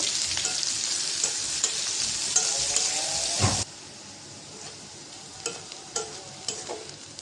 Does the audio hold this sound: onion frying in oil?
yes